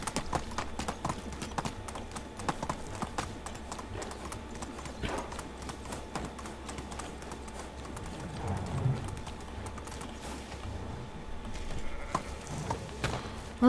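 Horse hooves gallop across ground in the medieval survival game Medieval Dynasty, a fast, steady clatter of hoofbeats running throughout over soft ambient birdsong.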